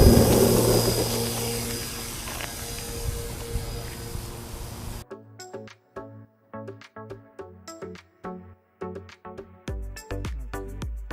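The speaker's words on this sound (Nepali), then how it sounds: "ये प्लेन उड़ भी रहा है" A small homemade airplane built by a Nepali boy drones with a buzzing engine for about five seconds, then cuts off as a plucked, rhythmic melody takes over.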